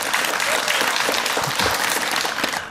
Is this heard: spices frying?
no